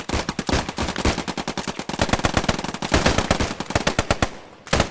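A machine gun lays down suppressing fire during infantry section attack training, a loud, close, rapid string of shots running almost nonstop for about five seconds with one short pause before the last bursts.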